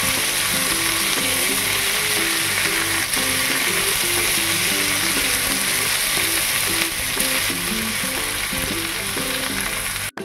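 Prawns frying in a pan, a loud, continuous sizzle with stirring scrapes throughout, alone and steady from start to finish before a sudden stop at the end.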